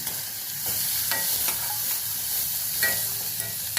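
Onions fry in a pan for a spinach and tomato curry, giving a steady, close sizzle with occasional stirring scrapes and clinks and no voices.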